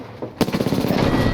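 Gunfire in Apex Legends, a sudden burst of rapid automatic shots after a brief quiet start, loud and dense, firing without pause to the end.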